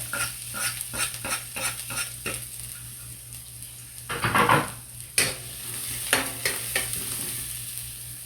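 Aromatics are sautéed in a pan for pinulpog, a Bicol dish, with rhythmic spoon scrapes and taps over a steady sizzle and a louder burst of frying midway.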